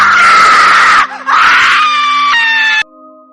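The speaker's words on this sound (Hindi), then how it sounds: "वह जोर जोर से चिल्लाने लगा।" A man screams loudly in a narrated horror story, one sustained, piercing cry lasting about three seconds before it cuts off abruptly into quiet.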